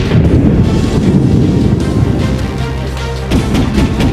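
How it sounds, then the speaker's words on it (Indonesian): A torpedo strikes a warship's side in a naval battle explosion effect, a loud deep boom rolling into a sustained rumbling roar that swells again near the end. "tiba-tiba sisi kanan kapal Verb terkena serangan torpedo tunggal"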